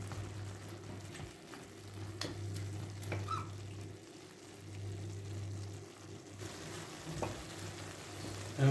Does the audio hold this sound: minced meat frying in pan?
yes